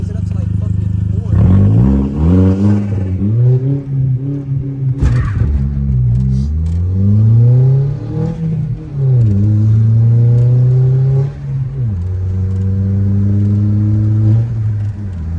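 A muffler-delete Audi A4 revs up loud and close before a launch, its engine climbing and falling in repeated swells with a raspy, droning exhaust, while people talk over it.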